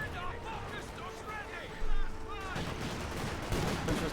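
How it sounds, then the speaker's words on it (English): PTRS anti-tank rifle fire from the Company of Heroes 2 video game comes as repeated sharp shots in a busy battle, under a commentator's continuous talk. "A torrent of PTRS fire there."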